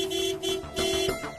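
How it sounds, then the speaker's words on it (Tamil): A car horn sounds in short honks with a steady mid-pitched tone, repeating about three times close by, with no voices over it. "ஹார்ன் அடி."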